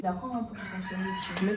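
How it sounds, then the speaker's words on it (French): A rooster crows in the background, partly under French-speaking voices talking nearby. "Donc déjà, désolé pour le bruit pour le chant du coq."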